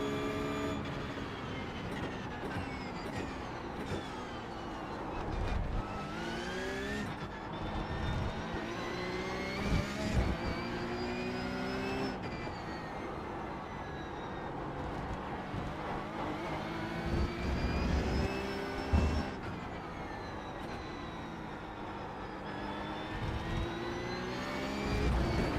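McLaren race car engine in a racing video game revs hard through repeated rising and falling sweeps, a loud, continuous whine with occasional thumps across a long stretch, no talk.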